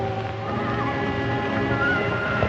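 A horse neighs and whinnies loudly and continuously in a 1945 Cinecolor Western, the call close and dominant over a low rumble, with no speech.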